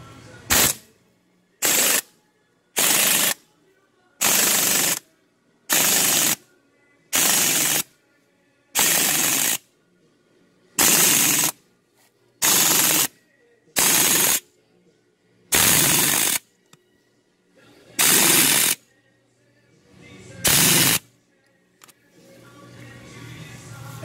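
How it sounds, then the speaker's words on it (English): Cheap pneumatic air gun in short repeated blasts while fitting a shed anchor: about fifteen loud, sharp hissing bursts roughly a second each, separated by brief gaps of near silence. "Of course, I'm using an air gun."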